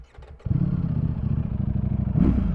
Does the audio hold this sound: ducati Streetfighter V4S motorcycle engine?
yes